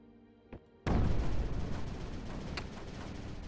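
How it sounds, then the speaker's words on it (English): A single heavy boom from mortar fire in a video game lands after a small earlier pop, striking loud and close with a long rumbling decay and some lingering background noise. "I'm pretty sure that was a mortar."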